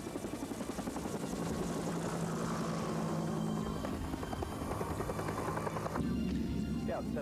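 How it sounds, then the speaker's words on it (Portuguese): A Sea King helicopter flies overhead on an anti-submarine search, its rotor thudding in a continuous, fairly close chop with a droning engine underneath, fading somewhat toward the end. "O capitão ordena que um helicóptero Sea King investigue."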